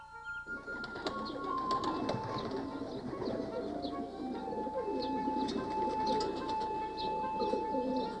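Fancy pigeons coo in soft, repeated low calls, fairly close, with a steady quiet background hum and no talking.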